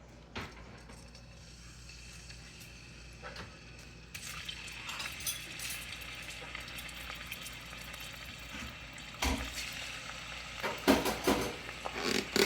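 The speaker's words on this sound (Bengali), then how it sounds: "আমার তেলটা গরম হয়ে গেছে এখানে এখন আমি চিংড়ি মাছগুলো দিয়ে দেব" Prawns dropped into hot oil sizzle and spit in a home kitchen pan, a low hiss jumping to a loud, steady fry after about four seconds, with sharper crackling bursts near the end.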